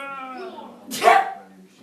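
A voice hums or talks briefly, then a single sharp, breathy sneeze bursts out close by, followed by a quieter tail.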